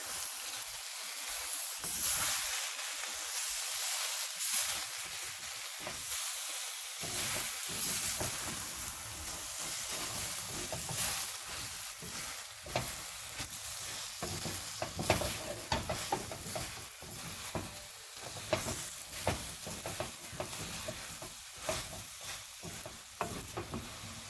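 Mint leaves being stirred into fried vegetables for a Dindigul Thalapakkatti style veg biryani, a steady close sizzle with scraping spoon strokes running throughout, no talk.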